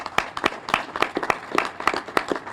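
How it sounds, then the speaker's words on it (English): Scattered applause from a small audience at an Irish flag raising ceremony, with a dozen or so distinct claps popping out irregularly over a soft murmur, close and moderately loud. "That deserves a round of applause."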